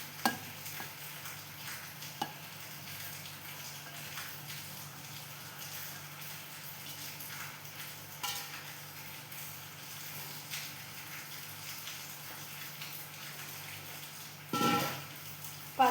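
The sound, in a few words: stirring cooked green gram into a jaggery and cardamom mixture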